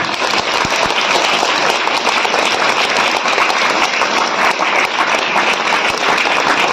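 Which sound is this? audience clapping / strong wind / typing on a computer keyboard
audience clapping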